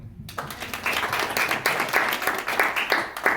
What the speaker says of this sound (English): Clap it up if you're a parent.